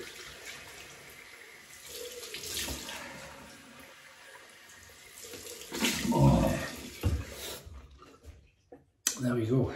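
Cold water running from a tap into a sink while shaving, a rushing splash that swells and fades, with someone talking near the tap and clicks as it stops.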